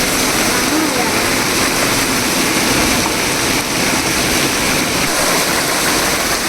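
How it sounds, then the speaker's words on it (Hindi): Rainwater drips and runs off a balcony ledge, a steady, loud, dense wash of falling water with no breaks and no talk. "ये देखो एक छज्जे से जैसे पानी टपक रहा है ना"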